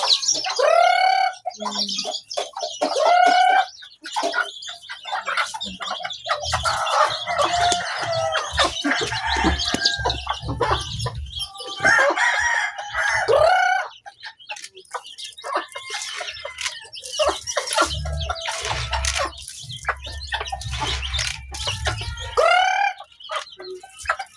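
A flock of chickens clucks and chirps continuously nearby, with several rising crowing calls from a rooster standing out at intervals.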